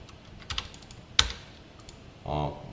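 Rapid clicks on a computer, quick sharp taps in a short cluster with a louder single click in the middle, followed by a brief hum-like tone.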